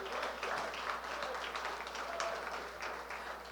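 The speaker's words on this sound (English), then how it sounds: "We should clap for you." An outdoor crowd at the World Snow Sculpting Championship kickoff in Stillwater, Minnesota claps for a sculpting team, scattered hands patting at moderate level with a low steady hum beneath.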